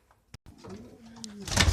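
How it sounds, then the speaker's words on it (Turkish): A soft pigeon coo rises and falls close by, after a couple of faint clicks, then broadband rustling swells at the end. "Beş tane güvercin dışarıda."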